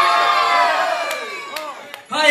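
Village men at a traditional folk New Year greeting shout together loudly in unison: a sustained crowd cry that fades, followed by a few scattered yells and then a fresh burst of shouting at the end.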